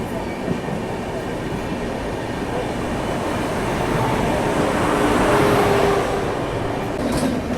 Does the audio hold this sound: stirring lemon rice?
no